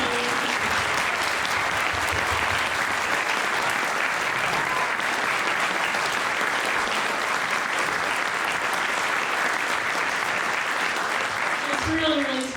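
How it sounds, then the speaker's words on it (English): Sustained, full audience applause at a spring concert for two student soloists, dense clapping filling the room evenly throughout with a few voices underneath. "can we just have one more round of applause for our two student soloists"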